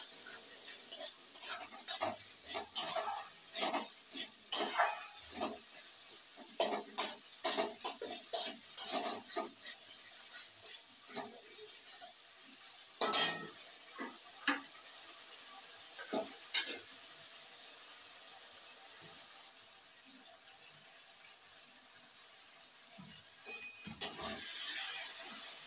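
Cabbage stirred and sautéed in a hot pan for a festive-style Bengali cabbage dish: steady sizzling with repeated scraping and clattering strokes of the spoon, close and fairly quiet, easing off toward the end.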